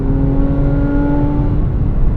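A 2006 Porsche 997 Carrera S engine pulls steadily while driving, a loud, close, continuous drone with a smooth tone and no talk over it.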